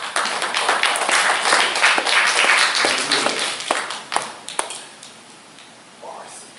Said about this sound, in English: So let's receive Cohane Ovadiyah with a hand clap.